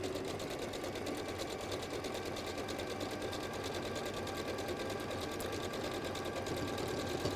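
A sewing machine stitches in a continuous, fast mechanical whir, loud and close, running steadily without pause or talking.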